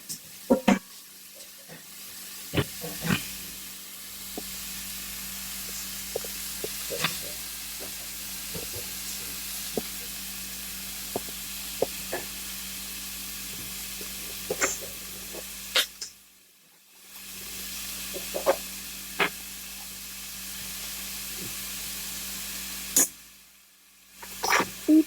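Garlic sautés in a pan with a soft, steady sizzle and hiss, broken by small clicks and taps, briefly dropping out twice.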